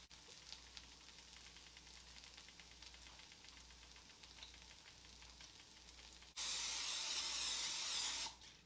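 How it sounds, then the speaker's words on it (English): Cooking spray hisses onto a pan in one loud, steady burst of about two seconds, following a stretch of quiet kitchen background with faint sizzling, no talking. "Putting a bit of pan spray on the pan."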